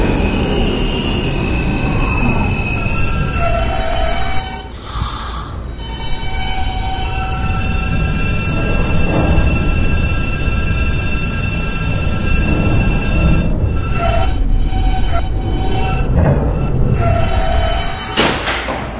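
A simulated R160B subway train on the B line rumbles along steadily, with wheels squealing in high, piercing bursts and rattling car noise throughout.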